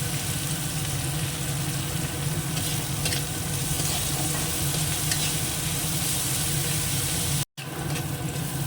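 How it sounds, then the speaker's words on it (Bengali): Steady, close sizzling of onions frying in a pan, a continuous crackle with occasional stirring scrapes, briefly cutting out near the end. "পেঁয়াজটা আগে একটু ভেজে নিই লাল করে"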